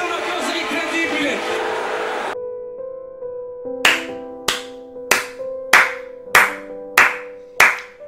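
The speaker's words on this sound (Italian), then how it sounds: "faccio gli applausi a Inter e Milan per lo spettacolo che ci hanno fatto vedere" Hand claps ring out alone as a slow run of seven sharp, evenly spaced claps, following a burst of noisy speech or crowd sound, with steady tonal hum between the claps.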